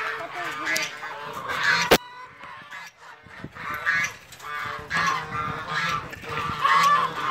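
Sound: Chinese geese honking among poultry

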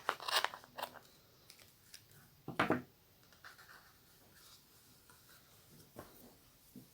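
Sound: scissors cutting Nako Vizon yarn

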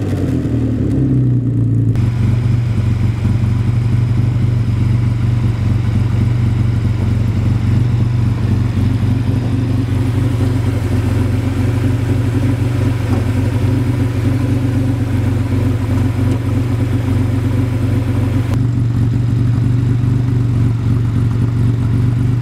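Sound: 1953 Jaguar C-Type replica inline six engine, side exit exhaust

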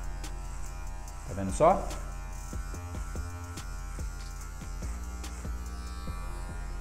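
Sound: electric hair clipper cutting afro hair

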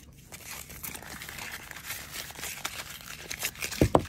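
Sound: metal tape being crumpled up

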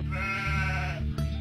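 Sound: lambs bleating

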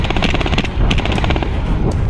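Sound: airsoft guns firing during an airsoft game

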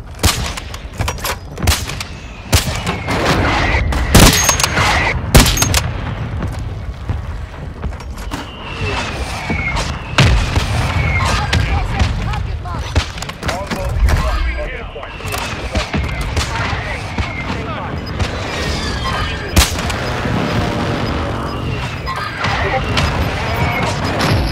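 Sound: mortar fire in a video game

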